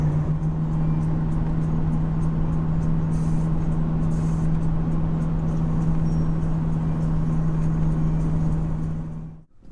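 A Chevrolet Tahoe towing a trailer drones along the road in a steady low engine and tyre hum with a constant tonal note, then cuts off abruptly at the end.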